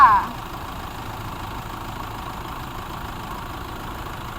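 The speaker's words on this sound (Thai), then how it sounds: "พี่พี่ได้ยินเสียงเครื่องยนต์ไหมคะ ตอนนี้หนูสตาร์ทแล้วนะคะ เครื่องยนต์กำลังทำงานอยู่ค่ะ" A Toyota Hilux Vigo Champ 2.5G 2012 pickup truck engine idles steadily with a low, even rumble after a brief chirp at the start.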